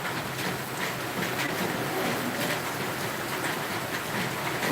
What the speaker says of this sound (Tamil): புதுச்சேரியில் அதீத கனமழையானது பெய்து கொண்டிருக்கிறது